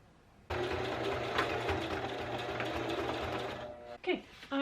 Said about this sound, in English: sew the bag up